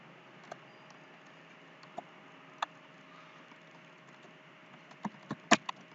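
Sparse keystrokes on a computer keyboard while an address is entered into an online visa form, a few isolated taps followed by a quicker cluster of clicks near the end, close and quiet.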